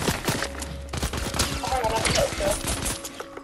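Fortnite gunfire cracks off in rapid bursts of repeated shots, mid-distance and moderately loud, mixed with game effects and tones while players talk over it.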